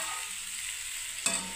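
Cauliflower frying in spiced oil gives a soft, steady sizzle, faint and close, with a brief stirring scrape near the end.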